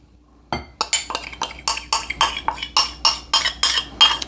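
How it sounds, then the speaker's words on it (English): A whisk beats canola oil in a medium bowl with a quick, regular series of about fourteen sharp clinking strokes against the sides, close and loud, with no talking. "in a medium bowl, I am going to go ahead and whisk in 1/2 cup of canola oil"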